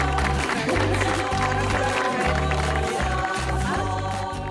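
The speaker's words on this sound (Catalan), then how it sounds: "Un bon aplaudiment per ell." An audience applauds a volunteer who helped the food bank, steady dense clapping throughout over a low repeating musical bass pulse.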